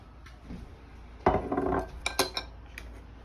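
Garlic sauce poured into a hot frying pan alongside aubergine, heard as a close clatter and clink of a utensil against the pan followed by a brief sizzle, with no talking.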